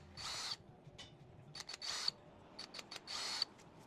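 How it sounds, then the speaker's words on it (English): Short bursts of a drill centre-drilling holes through a tow bar mounting plate on a 2012-or-later Yamaha FX jet ski, three brief whirring runs separated by small clicks and handling noises, close and fairly quiet. "We're going to center drill in each."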